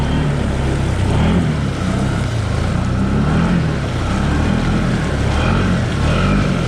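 A Can-Am Outlander 850 XMR ATV on 32-inch Aztex tires runs with a loud, steady engine drone and rumble, close and continuous with slight swells in pitch.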